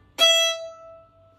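A violin note bowed cleanly without a stop, one bright sustained tone that starts sharply and fades over about a second, played alone and close.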